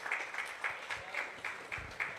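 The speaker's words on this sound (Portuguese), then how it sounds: "Dê uma salva de palmas ao Senhor." A church congregation claps in unison for the Lord, with about eight evenly spaced, rhythmic beats roughly a quarter second apart, fairly close and moderate in volume.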